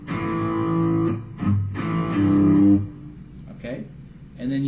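Electric guitar with a distorted tone plays a riff: a run of strummed power chords in a choppy rhythm, loud and close, with the last hits thinning out toward the end.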